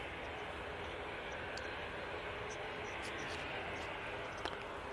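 A fixed-wing airliner landing at Manchester Airport, heard as a steady, broad engine roar held at constant loudness throughout, with a faint brief thump near the end; no one speaks.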